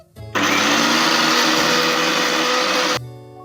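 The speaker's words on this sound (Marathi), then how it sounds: "आता मसाला आपण वाटून घेऊया।" A mixer grinder grinds a masala spice paste with a little water for Khandeshi shev bhaji, spinning up into a loud, steady high whir for about two and a half seconds before cutting off abruptly.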